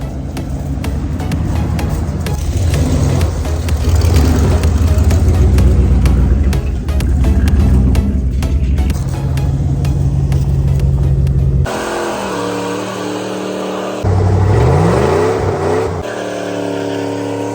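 A Dodge Durango burnout car revs hard and loud, its engine roaring at sustained high revs, then dropping and climbing again in pitch through repeated throttle blips.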